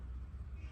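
A pet cat at home gives a short, faint meow, brief and close, with low background hum underneath.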